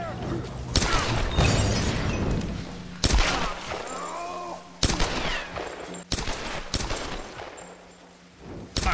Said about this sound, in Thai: มันปาระเบิด